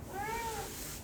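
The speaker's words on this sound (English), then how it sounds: "I'm sorry if you hear meowing in the background" A cat indoors gives a single drawn-out meow, close and fairly clear over a faint background hum.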